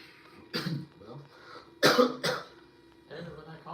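Several harsh coughs break out close by, a couple in quick succession, amid low voices talking.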